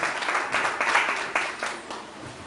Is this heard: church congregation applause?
yes